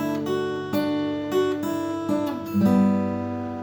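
An acoustic guitar plays the opening phrase of a song, plucked notes ringing clearly and steadily, picked up close with no voices.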